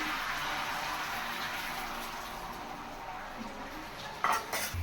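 Egg being stirred and scrambled in a pan at home, a continuous close scraping and clinking of utensil against the pan with a soft sizzle, a few louder knocks near the end.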